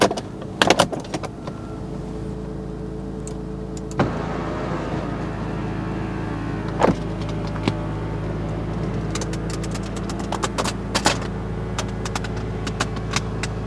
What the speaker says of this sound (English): you get an electric soft top on this car